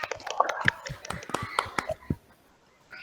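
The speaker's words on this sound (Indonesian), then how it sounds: "tepuk tangan untuk kita semua" A classroom of students clap together during a teacher's peer-teaching lesson, a burst of scattered, uneven hand claps over the first two seconds that thins out, with faint voices mixed in before it falls quiet.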